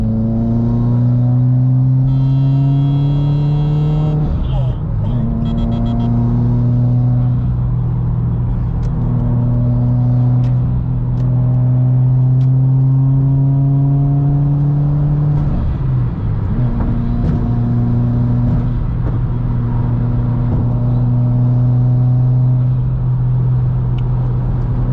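A modified turbocharged Subaru WRX on a pro tune drones steadily from inside the cabin while driving, its engine hum rising through gears with brief shifts and a light whooshing intake note.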